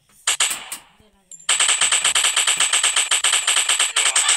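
Rapid automatic gunfire from the World War shooter game Gun Strike Ops, a loud, steady stream of fast shots that runs unbroken after a brief voice and a few short sounds at the start.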